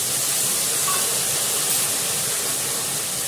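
Onion paste hitting hot oil in a pan, giving a steady, loud, broadband hissing sizzle that holds evenly throughout with no pauses.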